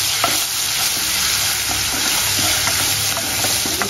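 About a teaspoon of garlic sizzles steadily in a hot pan for paneer 65, with light scraping clicks of a spoon stirring through the constant close frying hiss.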